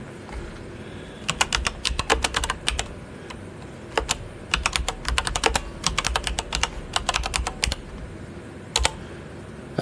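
Rapid bursts of typing on a computer keyboard, clustered clicks in several quick runs separated by short pauses, close and clear with no talking.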